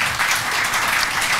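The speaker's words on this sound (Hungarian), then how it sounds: "Kérünk szépen Nikinek egy tapsot." An audience at a live talk event applauds, a dense, steady patter of many hands clapping together throughout, fairly close and even in volume.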